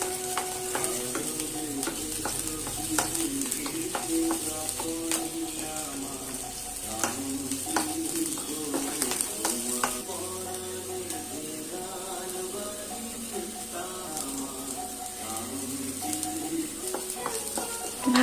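Mixed vegetables including carrots and beans, seasoned with salt and sugar, stir-fried in a pan: a continuous sizzle broken by frequent clattering scrapes and knocks of a spatula, with a tonal background hum running throughout.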